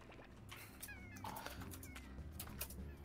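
A tabby slime in the video game Slime Rancher gives faint, cat-like meows amid game background sounds, a few short chirpy calls rising over a busy ambient bed.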